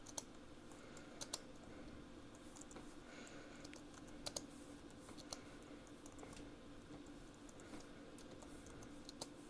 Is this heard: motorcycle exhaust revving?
no